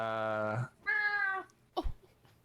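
A cat wails indoors in two long, drawn-out yowls, close and loud, followed by a short scuffling thump.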